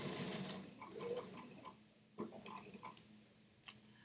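A sewing machine stitching quilt half square triangles, a quiet close ticking whir in short bursts with pauses and a few light clicks in between.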